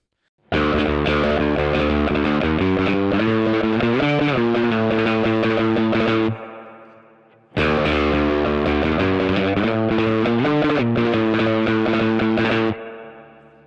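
Twangy electric guitar phrases through a surf-style reverb pedal, drenched in splashy reverb, played in two loud passages separated by a short ringing decay and silence.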